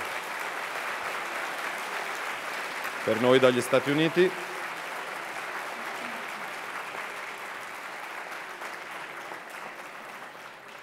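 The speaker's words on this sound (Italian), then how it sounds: "possa e debba andare il nostro primo e più lungo applauso" Sustained applause from a sizable audience at a conference fills the whole stretch. A voice speaks briefly partway through.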